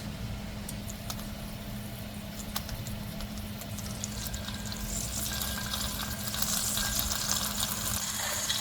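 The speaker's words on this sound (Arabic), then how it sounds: "هو ده الصوت اللي احنا حابين نسمعه، كده معناها ان الزيت سخن كفاية ووصل لدرجة حرارة مناسبة" Hot oil sizzles steadily in a pan just before chicken shawarma pieces go in, a loud continuous frying hiss with a few small pops and crackles and no voices.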